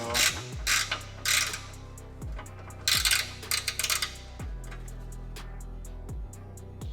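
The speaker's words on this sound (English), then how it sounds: "Just tightening these to make sure that they're actually tight." A ratchet wrench tightens fasteners during a CTS heat exchanger install on an Audi B8/8.5 S4 3.0T. Several bursts of rapid, close, crisp clicking are separated by brief pauses, with no voices.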